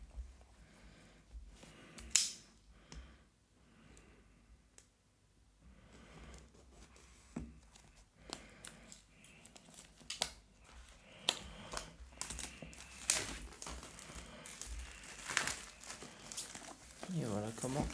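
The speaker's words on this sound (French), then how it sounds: "je passe au déballage" An Apple TV 4K 2021 box is unpacked close by, with soft crinkling of plastic packaging, tearing and small handling taps, quiet and intermittent, while someone speaks over parts of it.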